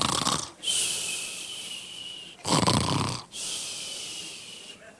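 A preacher imitates snoring with his voice during a sermon, producing two loud, rasping snore cycles with a hissing wheeze between them, close and alone with no talk.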